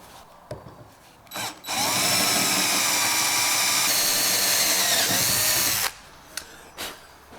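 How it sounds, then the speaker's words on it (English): A power drill with a 4mm bit drilling metal whines steadily for about four seconds, preceded and followed by short bursts of the motor starting and stopping. "at least we can drill this bit through with the 4mm"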